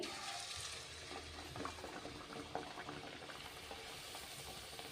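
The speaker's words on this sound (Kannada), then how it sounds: "ಇವಾಗ ಎಣ್ಣೆ ಕಾಯ್ದದ ಹಾಕೊಂಡು ಒಂದೊಂದಾಗಿ" Snack patties frying in hot oil in a pan, heard as a quiet, continuous bubbling sizzle with faint crackles and occasional stirring movements, with no voices present.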